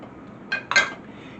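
A metal pan clinks and scrapes twice in quick succession while oil goes in for walnut vanilla pancakes, close and fairly quiet in an otherwise still kitchen.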